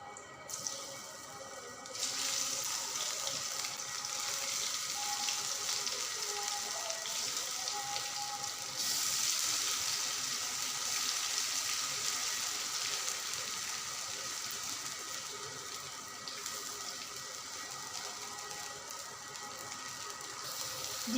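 Pumpkin pieces dropped into well-heated oil for frying, a steady broadband sizzle that jumps up at about two seconds and keeps hissing evenly, with a brighter surge midway, close and fairly quiet.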